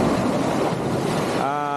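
Sea waves break and wash on the shore at Tanjung Balau as a loud, continuous surf roar, with wind buffeting the microphone over a short stretch.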